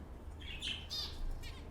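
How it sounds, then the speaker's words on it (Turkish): Red-billed leiothrix, also called Pekin robins, kept in a home breeding room give several quiet, high, bright chirps and short calls, close by over a faint low hum. "Burada yine bir tane white bir tane zebra Hint bülbülümüz var."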